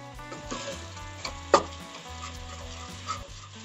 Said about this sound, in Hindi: मसालों को हम बिल्कुल लो फ्लेम पे अच्छे से कुक करेंगे